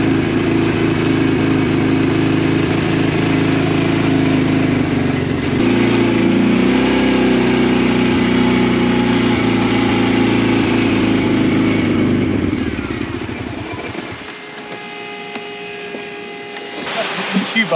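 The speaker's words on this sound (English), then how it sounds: "Now we gotta turn the bike off." A motorcycle engine idles steadily beside a truck on Ruapuke Island, its loud constant hum and rumble running for about twelve seconds before cutting out, leaving quiet background with faint tones.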